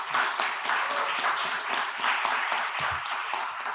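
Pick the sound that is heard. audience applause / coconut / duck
audience applause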